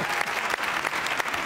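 A television studio audience claps on a talk show, dense and steady applause close and loud, with a few sharper individual claps standing out.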